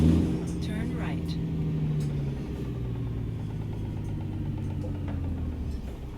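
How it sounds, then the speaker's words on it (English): A 600-horsepower Kenworth W900 truck engine in American Truck Simulator drones at a steady, low rumble, with slight shifts in pitch and someone speaking over it. "So this is a 600 horsepower engine."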